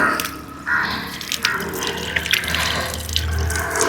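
Water running from a pipe at an outdoor hand-washing spot beside an old thatched Kerala tea shop, a steady close splashing stream with small spatters and drips, no talking.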